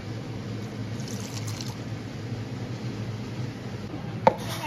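Half a cup of water pours into a grinder jar for tomato chutney in a home kitchen, a quiet steady trickle over low background hum, ending with a small sharp clink.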